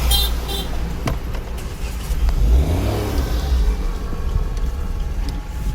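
A car engine revs during a driving lesson in first gear, the roar swelling in the middle and holding steady under road noise, loud and close.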